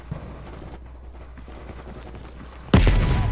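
Call of Duty gunfire bursts in suddenly and loudly near the end, following a stretch of quiet, low battlefield ambience.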